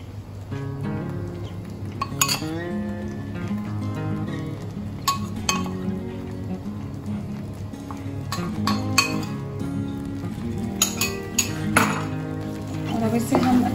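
A spoon clinks and scrapes against a bowl while sweet barfi mixture is stirred with cocoa powder, with steady background music running underneath the irregular clatter.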